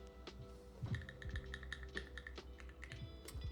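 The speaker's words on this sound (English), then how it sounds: "Sounded like a keyboard?" Mechanical keyboard on a custom Gentoo 65% build, typed in short irregular bursts of crisp clacks, close and fairly quiet, with no talking.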